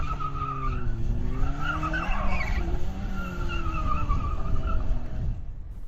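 Clio rally car on a gravel rallytest stage with a popped rear tyre, skidding and sliding with a continuous engine rumble and tyre scrub, rising and falling revs, loud and fairly close throughout.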